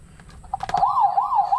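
A toy fire truck's electronic siren wails in rising and falling sweeps after a few clicks from its buttons, close and fairly loud with no talking.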